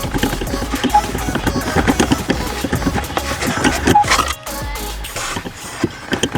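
Broken cabin heater fan in a 2004 Volkswagen Caddy running on its fourth speed setting, a steady loud mechanical whir with irregular rattling knocks throughout and a brief dip near the middle.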